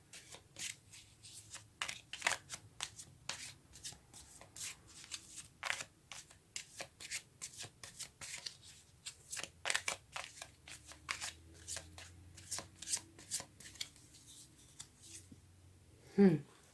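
Tarot cards are shuffled by hand in a quiet room, making a long series of quick, crisp riffling and flicking bursts at an uneven rhythm, close and fairly soft, with a louder knock near the end.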